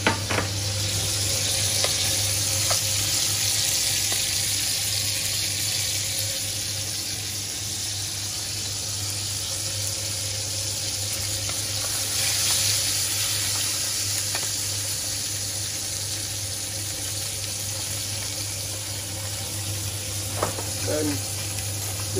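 Cauliflower frying in brown butter in a pan over medium-high heat gives a steady, close, loud sizzle throughout, with a few light knocks of utensils against the pan.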